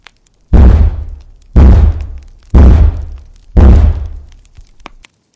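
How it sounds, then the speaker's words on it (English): Four heavy, booming knocks on a cabin door at night land about a second apart, each resonating and decaying before the next, steady and deliberate in a quiet space. "Heavy knocking, not frantic, but steady, hungry, like it had all the time in the world."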